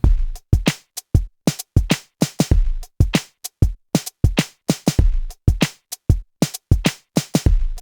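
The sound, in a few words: drum pattern with snare programmed on a Pocket Operator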